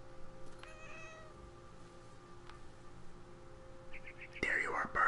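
Cat sounds from the video game What Remains of Edith Finch, with a few faint meows over quiet ambience and a louder burst of sound near the end.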